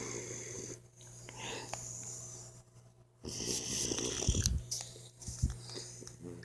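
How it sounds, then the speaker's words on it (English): A Boxer puppy snoring loudly and close by, with rough, wheezy rasping breaths repeating in a slow, uneven rhythm and a few snorts standing out. "Listen to this puppy snoring."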